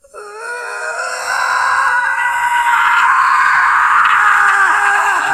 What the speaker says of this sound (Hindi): एक तेज रूह कंपा देने वाली चीख जो सन्नाटे को चीरती हुई उसके कानों में घुस जाती है।